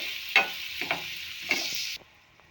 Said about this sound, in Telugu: ఆనియన్స్ వేసుకోవాలి. పచ్చిమిర్చి కూడా యాడ్ చేసుకుని బాగా మిక్స్ చేసుకోండి.